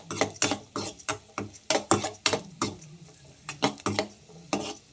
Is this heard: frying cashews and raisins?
yes